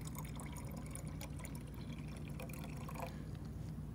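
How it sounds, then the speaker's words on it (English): Water is poured into a flask of dissolved salt up to the one-liter mark, a faint continuous trickle and splash heard alone for a few seconds. "now I can add water up to my 1 liter mark"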